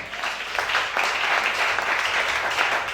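A church congregation applauding, a dense steady wash of many hands clapping at once, loud and sustained throughout.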